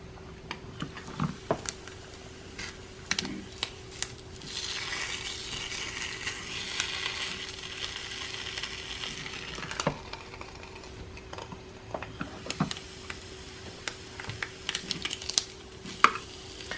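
Slices of bologna fry on a Dash mini griddle with a continuous close sizzle, punctuated by sharp clicks and pops from the meat and utensils, with no talk over it.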